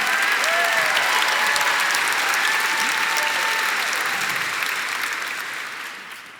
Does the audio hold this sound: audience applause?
yes